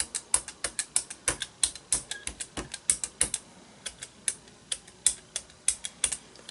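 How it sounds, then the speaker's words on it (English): A 2-inch brayer rolls over paint on a gel plate, making a quick, irregular series of sharp, tacky clicks and crackles, close and fairly quiet. "Let's take our 2-inch brayer"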